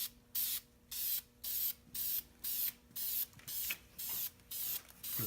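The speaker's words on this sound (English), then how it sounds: "Long, even sprays." Aerosol can spraying gray paint onto a Willys 6-226 Super Hurricane engine block in long, even passes, about nine regular hissing bursts with short pauses between, close and steady.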